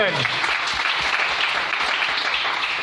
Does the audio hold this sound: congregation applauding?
yes